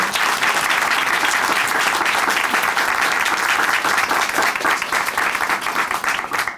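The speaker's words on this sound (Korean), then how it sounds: "우리 다시 한번 형제님께 큰 박수 보내드릴게요" A studio audience on a Korean Christian television program gives loud, sustained applause, a thick even wash of many hands clapping that tapers off at the very end.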